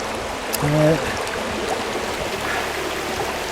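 A river runs over rocks near Thruscross Reservoir in Harrogate, a steady close rushing and burbling that continues throughout, with a brief tonal voice-like sound near the start.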